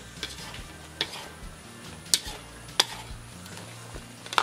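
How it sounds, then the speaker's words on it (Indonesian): A spoon stirs thickening spicy tteokbokki sauce in a pan, a soft sizzle running under a few sharp scrapes and taps against the pan at irregular intervals. "Kita aduk sebentar ya, udah mulai kental nih."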